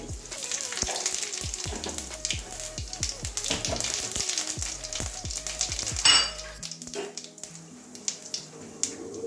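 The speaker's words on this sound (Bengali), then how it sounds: "ফোড়নে গোটা জিরে দিয়ে দিচ্ছি" Whole cumin seeds sizzle in hot oil as a tempering for an egg and potol-potato curry, a close crackling fry punctuated by repeated light stirring knocks, then a sharp burst before the sizzle settles quieter.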